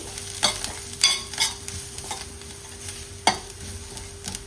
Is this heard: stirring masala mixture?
yes